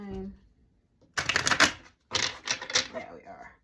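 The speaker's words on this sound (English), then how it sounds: "So let's go ahead and shuffle these up first." Tarot cards are riffled in two close, crisp shuffling bursts of rapid fluttering clicks after a short quiet moment, with a brief voice at the start.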